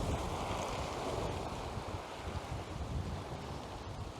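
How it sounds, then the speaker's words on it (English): Sea waves pound against the hull of a stranded yacht at Pagham Harbour, a steady, roaring wash of surf mixed with heavy wind buffeting the microphone, with no voices. "the sea, the waves are pounding against it"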